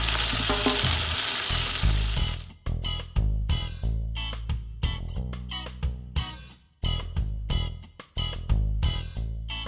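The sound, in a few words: sauce sizzling in a frying pan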